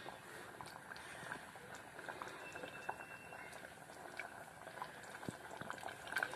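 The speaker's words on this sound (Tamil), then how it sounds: "நல்லா அந்த கொதிச்சு வருது பாருங்க." A pot of vegetable curry bubbles at a steady boil, soft continuous bubbling and popping up close, with no voices.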